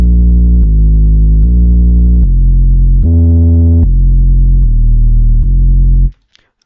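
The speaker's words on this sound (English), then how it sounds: "808 velocity, keep it high, and it will sound something like this." Heavy 808 bass notes programmed in FL Studio at high velocity, a sequence of sustained booming tones shifting pitch every second or so, loud and alone, ending abruptly into silence.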